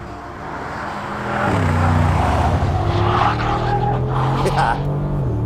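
Mercedes G63 G-Wagon driving hard on a race track, its loud engine droning steadily and rising in pitch through gear changes, with a roar that swells after the first second and stays strong throughout.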